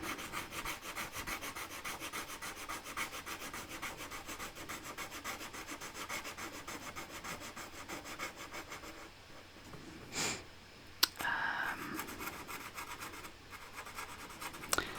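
A Sharpie marker colours in on cardboard up close, a steady scratchy rubbing that runs almost without a break, then pauses briefly before a few firmer, louder strokes near the end.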